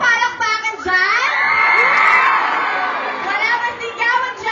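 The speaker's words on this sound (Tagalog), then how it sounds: "Wala bang sigawan dyan?" An evening show audience shouts and cheers loudly, with excited high-pitched voices, many of them children, swelling into a sustained roar before trailing off into scattered whoops.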